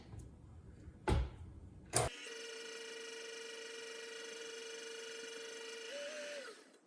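After a couple of clunks, an electric mixer starts and creams butter, sugar, vanilla and egg with a steady, even whine. Near the end it rises briefly in pitch, then cuts off.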